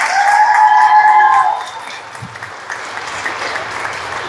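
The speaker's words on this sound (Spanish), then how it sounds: "El aplauso fuerte para el padre, hombre." Loud applause from a conference audience greets a priest, dense clapping with cheering tones that fades after a second and a half into scattered claps and room murmur.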